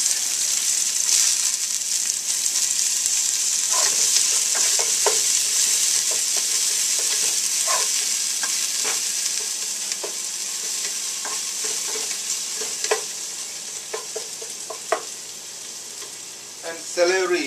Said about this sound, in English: And first I can add garlic. Garlic and onion.